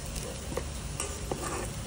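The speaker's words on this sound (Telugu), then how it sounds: "అందులోకి add some oil and chopped garlic and wait till it get roast" Chopped garlic sizzling in butter and oil inside an electric cooker, a soft continuous fry with a few light stirring scrapes and taps, close and gentle.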